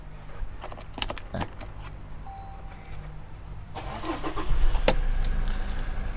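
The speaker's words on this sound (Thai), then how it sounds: "สตาร์ทให้ฟังเสียงเครื่องยนต์กันด้วยนะครับ" A 2018 Toyota Fortuner TRD Black Top two-wheel-drive engine turns over and catches near 4.5 seconds, settling into a steady idle rumble, with keys jangling and clicks beforehand.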